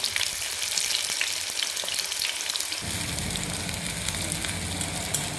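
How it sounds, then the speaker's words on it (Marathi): Two large sliced onions fry in hot oil until golden for smoky chicken biryani, a dense, loud crackling sizzle that grows fuller and deeper partway through, with no talking. "छान असा फोडून टाकायचा कांदा आणि एकदम सोनेरी कलरवर परतून द्यायचा"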